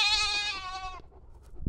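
A goat trapped between giant logs gives one loud, close, drawn-out bleat lasting about a second. A quieter stretch of background noise follows.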